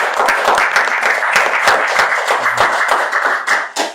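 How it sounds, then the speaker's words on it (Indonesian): Brief round of clapping from a small group at the close of a Tangerang city podcast, with crisp, closely spaced hand claps that hold steady and then thin out near the end. "Tepuk tangan dulu sebelum kita tutup."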